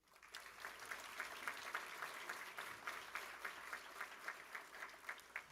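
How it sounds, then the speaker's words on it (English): Sustained applause from an audience at an academic team award ceremony, a steady dense patter of many hands clapping at moderate distance for the whole stretch, with no voices rising above it. "Let us give these partners a round of applause."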